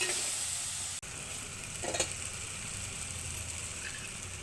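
Green chillies cook gently in a little oil over low heat for pachimirchi pachadi, giving a soft, steady sizzle with light stirring and a brief clatter midway, no voices.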